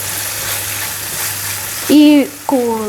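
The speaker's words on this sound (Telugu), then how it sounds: "ఇప్పుడు పెప్పర్ వేసిన తర్వాత జస్ట్ ఒక్క ½ మినిట్ టు 1 మినిట్ ఇలా ఫ్రై చేసేసి" Spleen and pepper frying in a pan, a steady close sizzle that continues under a voice speaking near the end.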